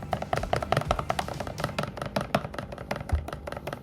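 Shampoo slime mixed with Fevicol activator, a quick run of sticky, squelchy taps and slaps in close, steady rhythm, fairly soft and without talk.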